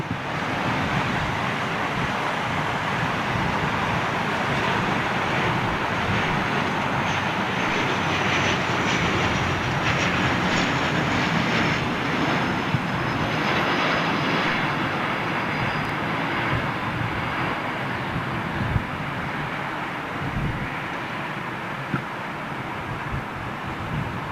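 An airliner flies past at London Heathrow with a steady, sustained broadband engine roar that holds loud for over twenty seconds and eases slightly near the end.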